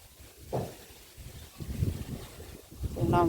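Outdoor wind buffets the microphone in uneven low rumbling gusts that build toward the end, among flowering kanakambaram plants, with a faint voice briefly audible.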